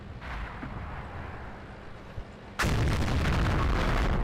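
KV-2 tank's heavy gun firing a high-explosive shell in World of Tanks: a single loud, close, broadband boom that bursts in abruptly and holds a dense, rumbling roar, following a low steady engine drone.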